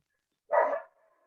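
A dog gives a single short bark in an otherwise quiet room, fairly clear and alone.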